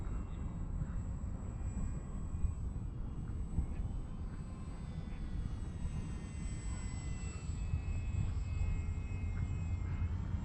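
A small LDARC Tiny Wing 450X RC foam airplane flies fast overhead, its motor and propeller giving a steady, faint buzzing drone for about ten seconds alongside wind noise.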